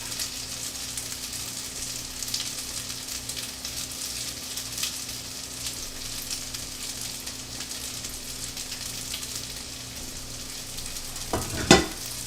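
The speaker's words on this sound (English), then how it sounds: "I just want to scrape it all out though." Teriyaki sauce is scraped out of an Instant Pot with a utensil, giving a steady rasping, stirring texture over a low hum, ending in a sharp knock near the close.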